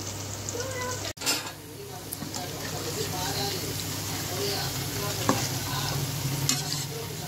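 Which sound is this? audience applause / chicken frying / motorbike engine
chicken frying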